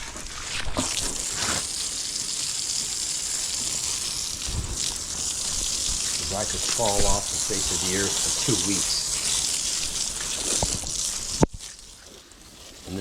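Water from a hose sprays onto a husky dog outdoors, a steady gushing hiss running almost throughout and cutting off near the end, while someone talks over it.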